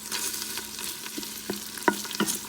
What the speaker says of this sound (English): Mix the tomato along with the onions properly